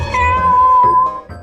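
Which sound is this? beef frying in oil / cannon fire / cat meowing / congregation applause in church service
cat meowing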